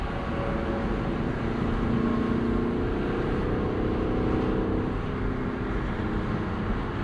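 Lexus LC 500 V8 convertible, 2025, idling and creeping along in rush-hour traffic behind a semi-truck; a steady, low engine rumble with a faint rising drone midway, continuous and close, with no talking.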